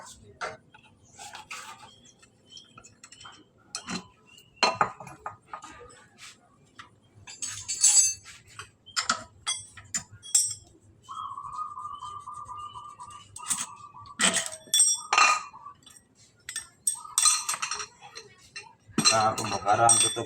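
Metal parts of a diesel engine click and clink as its cylinder head cover is taken apart by hand, with scattered sharp taps, a brief whirring tool and pauses, close and fairly quiet, and someone speaks now and then.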